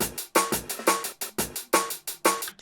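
Jungle drum and bass beat built in Ableton, with crisp, sharp snares and kicks chopped into a fast, syncopated breakbeat pattern, loud and punchy with no talking.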